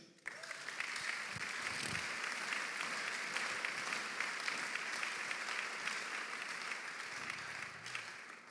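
A church congregation applauds during a Sunday service, a dense, sustained wash of clapping that stays loud and even for several seconds before easing slightly at the end.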